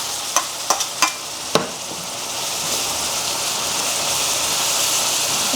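Meat for a meat sauce browns in a pan with a continuous close, hissing sizzle, a few sharp clacks of a utensil at the start, no talk.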